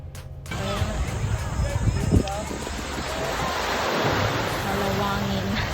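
Wind gusting across an open beach cove, with steady surf rolling in behind it. A voice speaks briefly.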